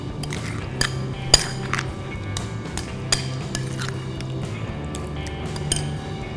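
Yogurt, chilli powder and biryani masala being mixed for seafood biryani: soft squishy stirring with scattered clinks of a spoon against the bowl, close and steady under a low background hum.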